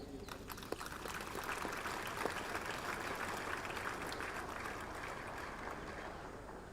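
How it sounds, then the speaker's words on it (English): Steady applause from the crowd for the cadets at the NDA passing out parade, Spring Term 2021, a dense and even clapping that runs the whole time at moderate distance without talk. "a big round of applause to the cadets and the drill sabs who made this"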